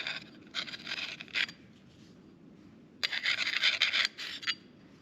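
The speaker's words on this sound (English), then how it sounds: "So this stuff just scrapes right out of there." Gunk being scraped out of Stihl chainsaw parts during maintenance, two close bursts of harsh rasping scrapes separated by a pause, nearby and moderately loud with no talking.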